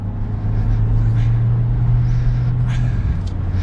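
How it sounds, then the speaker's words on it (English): A 2022 Kia Sorento Hybrid EX accelerating in sport mode, heard from inside the cabin as a steady, low, fairly quiet engine and road drone that stays even throughout. "we'll give it a little bit of gas in sport mode"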